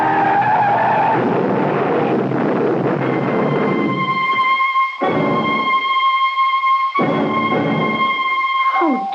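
A truck skids in a radio drama sound effect: an engine rush breaks into loud, high-pitched tire squeals. The screeches come in repeated bursts with short gaps between them.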